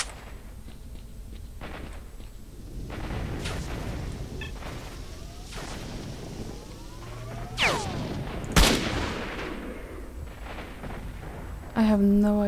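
Sniper rifle gunfire in the video game S.T.A.L.K.E.R. Shadow of Chernobyl: a few sharp, loud shots ring out over a busy battle backdrop with scattered distant fire, and a person talks through it.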